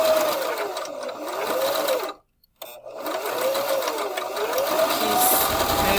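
A sewing machine stitches a fabric face mask with a steady, close mechanical whir that stops briefly for about half a second and then resumes at the same even pace.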